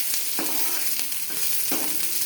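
Mustard seeds spatter with chopped onion in hot oil for a curry tempering: a continuous near sizzle broken by three or four stirring scrapes of a spoon in the pan.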